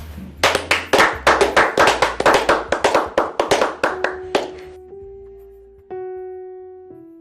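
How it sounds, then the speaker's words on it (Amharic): A crowd claps in quick, uneven bursts that thin out and stop. A few sustained musical tones ring on alone after the applause ends. "እስኪ በእናታችሁ ለፍቅር አንድ ጊዜ ሞቅ ያለ ጭብጨባ"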